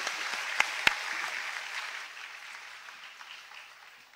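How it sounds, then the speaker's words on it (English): An audience at a university presentation applauds Tun Mahathir, Prime Minister of Malaysia, in faint, distant-sounding clapping with two sharper claps near the start, gradually fading away. "Ladies and gentlemen, another round of applause for His Excellency Tun Mahathir"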